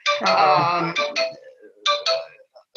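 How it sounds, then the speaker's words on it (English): A phone rings in repeated short electronic bursts, loud and close, with a brief pause between ring groups and no talk over it. "my phone is ringing."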